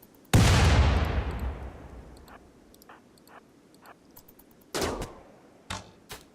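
Rimworld gunfire: one loud boom with a long decaying rumble, then scattered faint distant shots and a few sharper cracks near the end.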